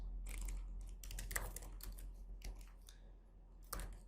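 Keystrokes on a computer keyboard while entering code for an expenses tracker app, a quiet run of soft clicks in uneven bursts with short pauses, close and alone against a low background hum.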